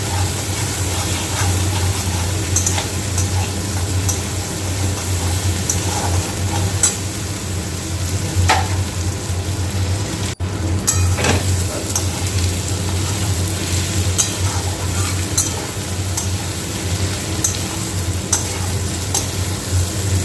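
Spice paste fries for a Bengali parshe fish curry with potatoes, a continuous, fairly loud sizzle lasting about twenty seconds, with occasional scrapes and taps from stirring and no voices.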